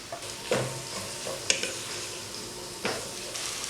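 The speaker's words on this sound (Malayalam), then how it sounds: "സവോള ഒന്ന് നന്നായിട്ട് വഴണ്ട് വരട്ടെ." Onions sautéing in a pan for beef biryani with tapioca, a close, continuous sizzle broken by several scraping stirs and clinks of a utensil against the pan, with no talking.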